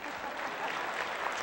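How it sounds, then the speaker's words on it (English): A debate audience applauds Richard Moore, North Carolina's State Treasurer, with a brief, steady wash of clapping from a crowd. "You may clap for Richard Moore"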